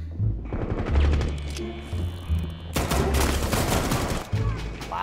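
Rapid bursts of shotgun pistol gunfire in Rainbow Six Siege, several loud sharp shots in quick succession with heavy echoing booms, mixed with excited game chatter and voices talking over the shooting.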